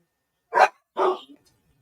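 Dogs bark at a homecoming, two loud close barks in quick succession followed by a brief softer yip, then quiet.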